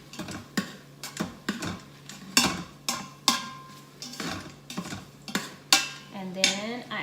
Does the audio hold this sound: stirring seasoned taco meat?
yes